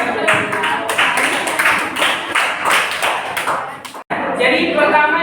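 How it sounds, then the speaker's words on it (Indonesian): A classroom group claps together, a lively burst of hand claps and scattered taps that stops abruptly, then resumes briefly, with voices mixed in. "beri tepuk tangan buat kita semuanya."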